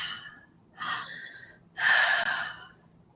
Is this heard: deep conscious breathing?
yes